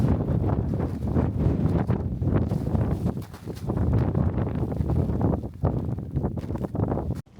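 Strong wind batters a wild camp in Scotland, a steady, loud roar with gusting buffets and rustling that hardly lets up, heard alone without speech.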